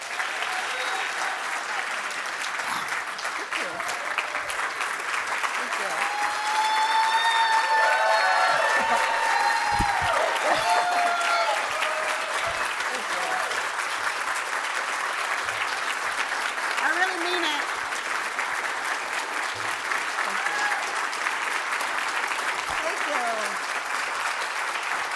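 Audience stands and applauds at length after a speech at an LGBT community center event in Cleveland, a dense, steady roar of clapping with some cheering mixed in, filling the room throughout.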